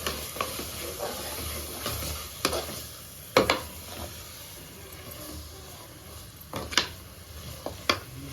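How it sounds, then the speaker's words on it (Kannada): Biryani masala being stirred and fried in a pan for hele keema biryani: a steady sizzling hiss with intermittent sharp scraping clinks of a spoon against the pan, close and fairly quiet. "ರುಚಿಗೆ ತಕ್ಕಷ್ಟು ಉಪ್ಪು, ಇದನ್ನು ಚೆನ್ನಾಗಿ ಫ್ರೈ ಮಾಡೋಣ."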